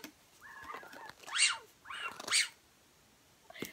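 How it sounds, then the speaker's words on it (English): Squeaker inside a small pink bone-shaped dog toy, squeezed twice in quick succession, giving shrill, strained squeals that are close and fairly loud, with quiet room noise between. "We have this cute little pink bone. It's, like, the worst squeaker ever."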